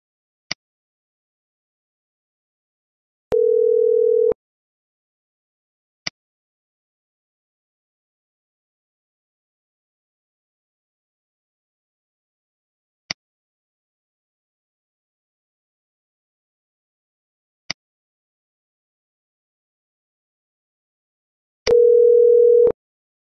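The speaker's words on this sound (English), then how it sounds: "incoming call arrives at your 5540 IP console, you hear ringing if you have the bell turned on" A Mitel 5540 IP console signals an incoming call with two short steady electronic ring tones spaced far apart, separated by faint brief clicks and long stretches of silence.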